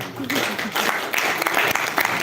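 Audience applause at an open house event in Abuja, a steady broadband patter throughout, with a voice talking over part of it.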